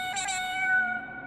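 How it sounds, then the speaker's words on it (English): A cartoon cat gives a single clear, drawn-out meow, close and fairly loud, with no talking. "What, a cat?"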